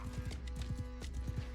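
Horse hooves clip-clop in a quick, steady galloping rhythm in the combat game Mount & Blade II: Bannerlord, close and continuous with no talk over them.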